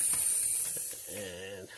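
Ratchet wrench clicking as it loosens the nut on a car's ball joint, a few near mechanical clicks followed by a brief buzzing rattle, alone without talk.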